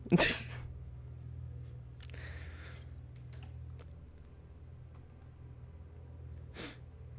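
A single sharp sneeze bursts out at the start, followed by quiet room noise, scattered keyboard clicks and a faint breath near the end.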